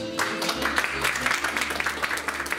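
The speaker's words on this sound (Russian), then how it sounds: "Эти аплодисменты звучат в вашу честь" Applause from an audience at a scholarship award ceremony, a dense steady clatter of clapping that fills the hall, with a low hum underneath.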